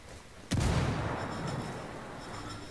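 A grenade goes off in a military shooter video game, a single sudden booming blast that hits hard and then trails into a long rumbling, crackling decay.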